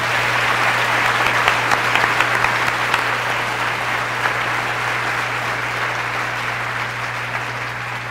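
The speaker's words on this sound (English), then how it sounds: "Could we have a round of applause for those people" Steady, even applause from a crowd at a St John School centennial gathering carries on without a break, with a faint electrical hum running beneath the clapping.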